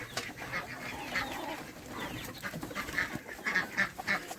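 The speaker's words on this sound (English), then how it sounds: "The chickens, we bring them in here in the winter time." Chickens cluck and murmur together inside a hoop house in winter, several birds calling close by in an irregular, busy chatter.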